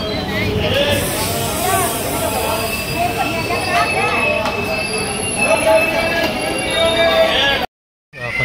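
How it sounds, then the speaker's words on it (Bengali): Train pulling into a station beside an AC coach, loud close wheel squeal and rumbling rail noise with voices in the background, ending in a sudden brief cutoff. "ট্রেন চলে আসছে, এটা এসি কামরা।"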